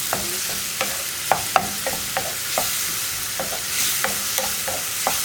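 Ground spices cooking with splashes of hot water in a pan for a potato masala, with a soft sizzle under a series of sharp spoon scrapes and stirs, close up, no voices.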